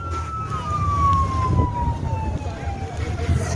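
An ambulance siren wails past on a road, a single falling tone cutting through heavy low rumble and traffic noise, with voices around it.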